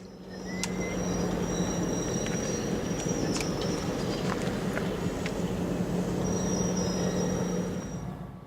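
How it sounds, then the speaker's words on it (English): Santa Cruz and Monterey Bay Railway train on a lumber-car pickup run: a steady low diesel rumble with a droning tone, plus sharp metallic squeals and clanks scattered over it, continuous for the whole stretch. "The train is here today to pick up a loaded lumber car"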